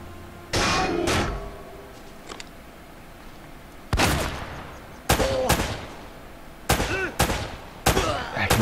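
Gunfire in Uncharted: Drake's Fortune, heard as several separate sharp bursts of shots spread through the stretch, loud and close, with quieter ambient game sound between them.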